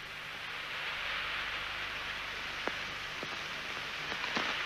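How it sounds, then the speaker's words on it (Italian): Steady rain hisses in a wash of broadband noise, close and even throughout, with a few faint isolated knocks or drips near the end, from a 1953 Italian film. "C'è però una difficoltà. Piove."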